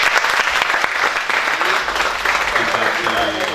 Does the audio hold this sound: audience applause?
yes